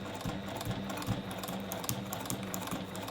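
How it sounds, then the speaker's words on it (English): A sewing machine stitches paper-pieced quilt blocks together in a quick, steady mechanical patter of needle strokes, close up and alone. "as I'm sewing 4 blocks together"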